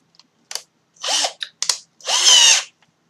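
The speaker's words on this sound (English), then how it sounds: "We now have our hole drilled." Two loud whirring bursts of a power drill boring a hole for a dripper bottle, each about half a second, separated by short clicks and taps in otherwise quiet surroundings.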